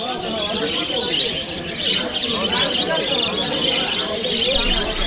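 Lovebirds chirp and twitter amid a dense wash of bird calls at the Garia bird market, layered under a steady murmur of crowd noise and talk.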